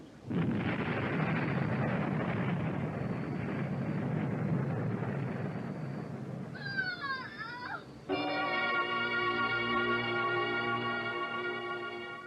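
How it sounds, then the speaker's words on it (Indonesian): A loud explosion on a house roof in an audio drama: a heavy, rumbling blast that roars for several seconds, then gives way to a brief shrill cry and a sustained, ringing tonal effect, with no voices. "Tiba-tiba mereka dikejutkan dengan suara ledakan di atap rumah itu."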